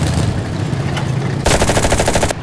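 Submachine gun in the World War II shooter Enlisted, set in the Battle of Berlin, firing loud and close in a rapid automatic burst that ends sharply, over a background battle din.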